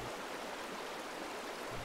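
A river waterfall in the Norwegian countryside in winter gives a steady, dense, full rushing roar of falling water, constant and close, with no other sounds.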